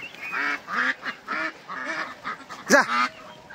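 Ducks on a two-level farm, where chickens live above and ducks below, quack and honk in a series of loud, closely spaced calls, with one sharper call near the end.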